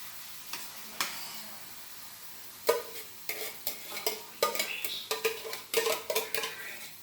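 A spoon scrapes and stirs tomato puree into a quietly sizzling pan, a series of faint irregular scraping clacks and soft knocks building in density toward the end.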